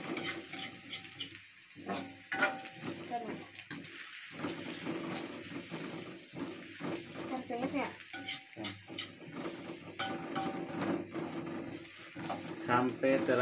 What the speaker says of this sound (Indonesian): Bawang putih sama daun jeruk. Oregano. Nah, ditumis.